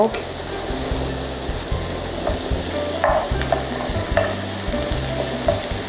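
Cucumber, carrot and other vegetables stir-fried in a pan, with loud continuous sizzling and regular scraping strokes of a spatula, plus a few metallic clinks.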